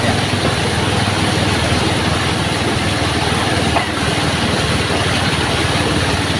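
A motorcycle tricycle carrying passengers on a flooded road runs in second gear. Its engine drones steadily and loudly, close up, with a rough, even rumble and no talking.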